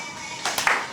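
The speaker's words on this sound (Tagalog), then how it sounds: "Oh, palakpak." A few brief hand claps, close and fairly loud, land in a quick cluster after a short quiet stretch in a home setting.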